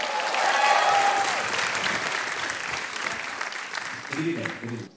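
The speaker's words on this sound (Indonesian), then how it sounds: "Beri tepuk tangan yang meriah untuk kubu saya." A stand-up comedy show audience breaks into loud applause with a few whistles and cheers near the start, then gradually dies down before a voice speaks briefly at the end.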